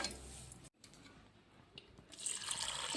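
Rice and urad dal are rinsed in water, a faint swishing and trickling of grains and liquid in a bowl, close by.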